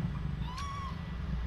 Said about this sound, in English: These are some nice, solid, pudgy kittens.